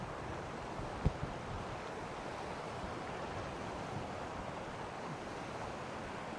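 Steady rushing flood water fills the scene, a broad continuous wash with one brief knock near the start and no voices.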